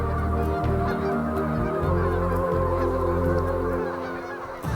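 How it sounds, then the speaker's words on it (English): At Cibola National Wildlife Refuge, a flock of geese mixed with cranes keeps up a dense, continuous chorus of overlapping honks and calls, loud and close, with no pause throughout. "The cacophony of calls from geese mixed with cranes is an experience every outdoor enthusiast needs"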